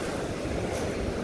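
Sea waves wash onto the beach at Mahmutlar near Alanya on the Turkish coast, a steady broad surf rush with some wind noise and no pauses.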